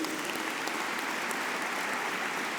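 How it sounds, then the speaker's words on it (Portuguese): Dense, steady applause from a large audience at a church conference, continuous clapping filling the hall without pause. "uma salva de palmas para eles"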